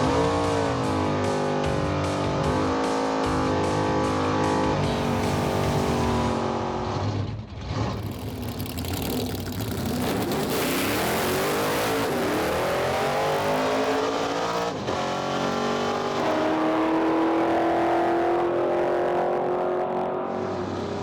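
A drag race car roars down the strip on a pass, its engine screaming loud and rising steadily through the gears for many seconds, with no voices over it.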